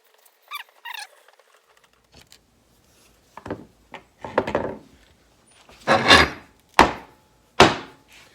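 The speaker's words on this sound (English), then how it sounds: "All right, back to the bench vise and we'll tap that hole." A tap cuts threads into a hole in a shaft coupler clamped in a bench vise, heard as a series of short scraping, ratcheting bursts that grow louder and more spaced toward the end, with nearby handling clicks and no talk.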